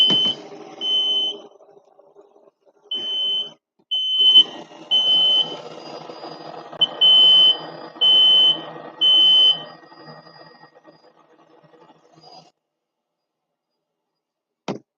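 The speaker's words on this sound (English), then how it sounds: "Smoke alarm in there." A smoke alarm chirps in short, sharp beeps, often in quick pairs, repeating irregularly over a faint background hum, set off by smoke in a workshop.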